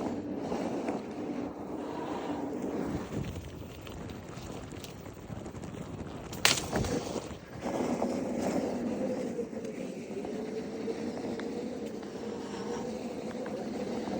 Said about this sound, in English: Enjoy a little one wheel ASMR.